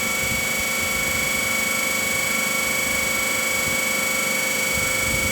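A DC machine spinning steadily at 1500 RPM in an electrical lab, a constant loud mechanical whine and hum with fixed tones throughout and no change in speed.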